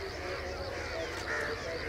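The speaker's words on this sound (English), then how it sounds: "Crows flying everywhere." Crows caw at dawn at the Taj Mahal beside the Yamuna River, a layered chorus of calls blending over a steady outdoor hum and heard at a moderate distance.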